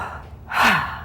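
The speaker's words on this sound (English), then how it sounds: "when we breathe in through our mouth, it goes to the belly" One deep, audible breath drawn in through the mouth during a breathwork practice, close and rising sharply like a gasp over faint room noise.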